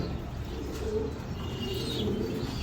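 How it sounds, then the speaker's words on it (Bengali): A pair of Danish pigeons coo softly and faintly, a few low murmuring calls over a steady background hiss. "ডেনিশ কবুতর আছে এক জোড়া"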